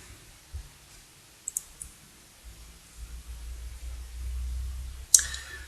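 A computer mouse clicks faintly a couple of times in a quiet room, followed by one sharper, distinct click near the end.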